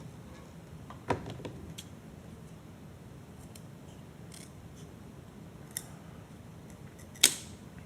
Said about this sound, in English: So I'll go ahead and cut the piece now.